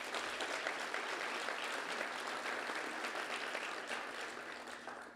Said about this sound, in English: Let's give all the alumni in the audience a round of applause as well for their continued support to our schools.